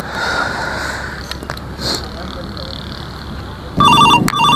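A mobile phone rings with an incoming call, a loud repeating electronic ringtone bursting in near the end over a steady background hum.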